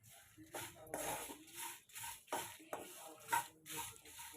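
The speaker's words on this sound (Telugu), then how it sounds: "ఇది కొంచెం డ్రై రోస్ట్ చేసుకుంటే సరిపోతుంది." Dried red chillies and sesame seeds dry roast in a pan, giving quiet bursts of scraping and rustling as they are stirred, with soft crackles between strokes.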